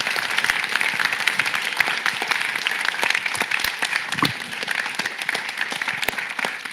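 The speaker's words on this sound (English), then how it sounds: "a big round of applause for these two" Sustained, dense applause from a conference audience at the UCL Leaders 2022 event, a steady loud wash of many hands clapping together with a few sharper claps standing out.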